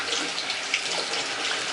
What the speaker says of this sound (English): So I'm going to wash my hands off here.